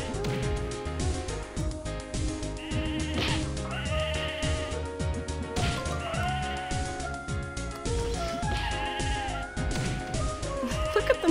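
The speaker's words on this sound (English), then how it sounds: "I'm just failing at shearing a sheep." Sheep bleating repeatedly while being sheared in the game Mabinogi, several clear bleats rising over steady background game music.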